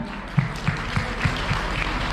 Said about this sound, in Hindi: तो ऐसे बिजनेस में आप हैं तो एक बार खुद के लिए जोरदार तालियां हो जाए।